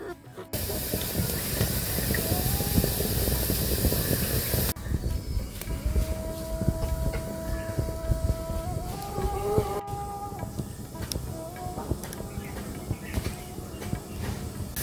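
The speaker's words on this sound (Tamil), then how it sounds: "பால் கொதிக்குதும்மா" A loud, steady hiss and rushing roar of buffalo milk boiling up in a pot, close and continuous, with some tonal whine in the later part.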